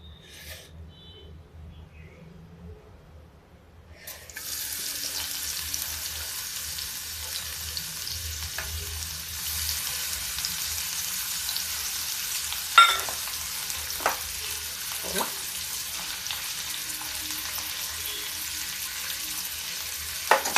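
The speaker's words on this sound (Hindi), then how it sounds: "पहले प्याज फ्राई कर रहे हैं, इसलिए कि मैं आपको बताऊं, ये पुलाव के लिए हम फ्राई कर रहे हैं" Sliced onions fry in a pan for a pulao garnish, a steady broadband sizzle that starts after a quiet opening, with occasional stirring scrapes and small pops over about fifteen seconds.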